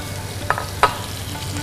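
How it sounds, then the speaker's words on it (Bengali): Beef shashlik sears in hot oil in a pan with a steady, close sizzle. Two quick sharp clacks, like the meat or a utensil touching the pan, break through, and no one speaks. "বিফ সাসলিকগুলোকে দিয়ে দেবেন।"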